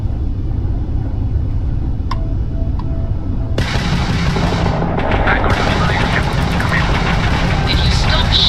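Spaceship weapons fire in the video game Starfield, a dense, loud barrage of blasts and rumbling bursts that swells sharply partway through, with game voices heard beneath the gunfire.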